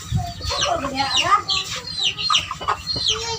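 Nine gamecocks cluck and chatter continuously at close range, a busy overlapping run of calls while being given calcium and multivitamins to drink.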